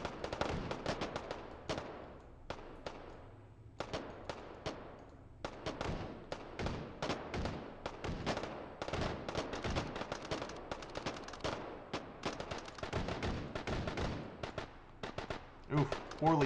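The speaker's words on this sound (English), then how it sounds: "Let's hide our cover points and watch them shoot a little more." Rapid bursts of gunfire from AI soldiers in the H3VR virtual reality shooter, with dense, repeated sharp cracks and volleys that run almost continuously through a firefight, loud and close, with brief lulls between clusters.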